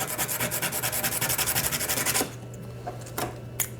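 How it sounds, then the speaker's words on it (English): A duck call reed is sanded on its contour with about a dozen quick, rhythmic rasping strokes close by, then the rubbing stops and only faint handling noises follow. "lay it on the table, and I'm going to sand about 10 more times right there on the contour"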